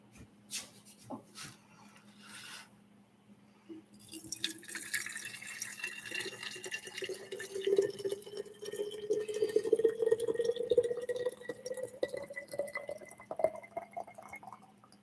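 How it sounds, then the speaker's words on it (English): Hot water poured into a clear container holding blooming tea: a few clinks, then a steady stream of liquid whose pitch rises as the vessel fills, close and growing louder, with no talking. "just add hot water to it"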